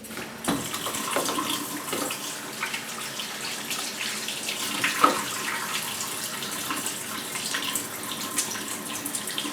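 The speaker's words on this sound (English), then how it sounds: "I'm just going to wash my hand here." Hands washed under a running kitchen tap, a steady close splash and hiss of water with brief rubbing and clatter, moderately loud and continuous throughout.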